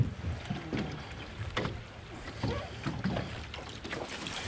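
Canoe paddling through whitewater rapids on the high, flooded South Anna River near Ashland, Virginia, with steady rushing water, repeated splashes against the hull as waves wash over the bow, and some wind noise on the microphone.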